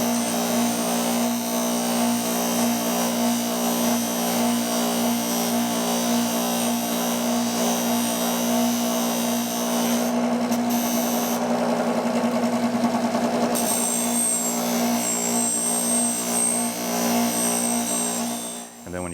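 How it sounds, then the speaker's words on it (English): A polishing wheel buffs an aluminum tube for a Messerschmitt Bf-108 restoration, charged with fine jeweler's rouge; a steady loud motor whine and rubbing hum run continuously throughout, with a brief change in tone partway through. "I'm going to put on a different, a more finer jeweler's rouge, and this gives you a better final polish"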